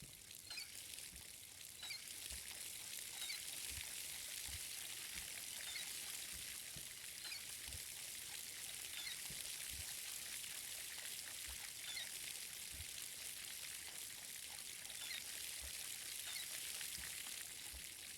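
Plants being watered in the video game Schedule I, a faint steady hiss of pouring and trickling water that runs continuously with no talk.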